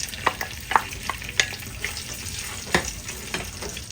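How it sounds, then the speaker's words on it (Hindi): Chopped large onion with black cardamom and cinnamon sizzling in a pot, stirred with a few soft scraping clicks over a steady frying hiss, close and fairly quiet. "चला लेते हैं और प्याज के कलर चेंज होने तक इसे पकाते हैं।"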